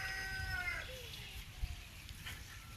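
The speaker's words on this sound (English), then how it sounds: "The rooster won't shut up." A rooster crows faintly in the background of a quiet outdoor setting, a drawn-out call that fades early on, followed by soft rustling and a small knock.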